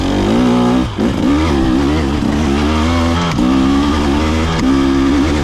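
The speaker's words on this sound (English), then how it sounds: "That engine, second gear, no clutch, it still pulls." A 2024 300 XC-W dirt bike engine pulls hard in second gear with no clutch, a loud, close, buzzing drone that rises and dips with throttle, briefly easing near the start.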